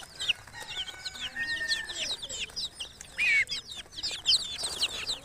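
Chickens of several breeds, including light Brahma, golden and silver Wyandotte and Japanese bantams, clucking and chattering together in a flock, with many overlapping close calls and a few sharper squawks, no talk.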